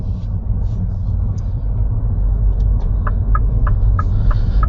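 Steady low rumble of a 2022 Mini electric car on the move, heard from inside the cabin, with faint chirping bird-like calls outside toward the end.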